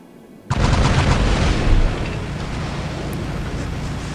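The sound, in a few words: robot side weapons firing, from video game War Robots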